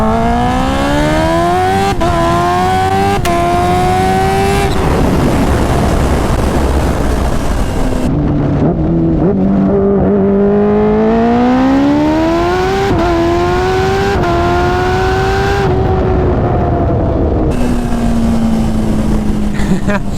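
Kawasaki Ninja H2R motorcycle accelerating hard, its engine screaming up through the revs in several rising pulls broken by quick gear shifts, loud and close throughout.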